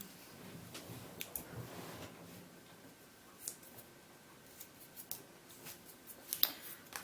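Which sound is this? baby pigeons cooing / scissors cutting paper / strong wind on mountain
scissors cutting paper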